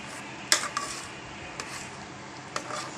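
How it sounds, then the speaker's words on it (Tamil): Cooked moong dal (split green gram) being mashed in a pot, a few scattered clanks and scrapes of a utensil against the metal, close but sparse, over quiet background. "பாசி பருப்பை நல்லா நசுக்கணும்."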